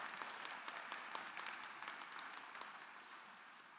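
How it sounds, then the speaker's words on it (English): Faint, distant applause rises from the audience at a university commencement as graduates from one school are recognized, scattered claps forming a soft steady wash that slowly fades. "Give them a round of applause"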